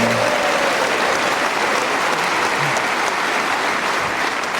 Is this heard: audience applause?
yes